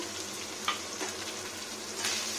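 Grated coconut fries in a pan in a home vegetarian kitchen, giving a steady soft sizzle with a few brief stirring scrapes. No voices.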